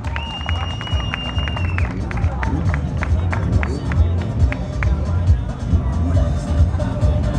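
At a motorcycle show, a crowd claps for an honoree amid loud background chatter and low rumble, with a few distinct hand claps and tonal beeps over the babble.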